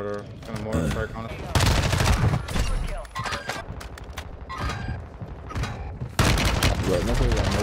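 Video game battle on the Al Mazrah or Vondel map, with loud bursts of automatic gunfire and heavy booms from a mortar strike in quick succession, players shouting under the shooting.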